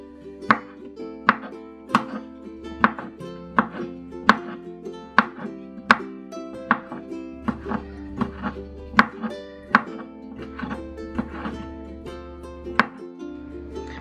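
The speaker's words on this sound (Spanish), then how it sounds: "voy a cortar la salchicha en pedacitos muy finitos" A knife chops sausage into very fine pieces on a cutting board, a close, steady run of crisp thuds at a regular, brisk rhythm.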